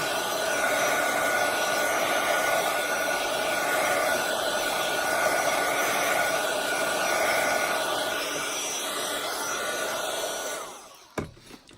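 A hair dryer drying paint on a small craft board, a steady loud whoosh held for about ten seconds before cutting off, followed by a few soft handling clicks.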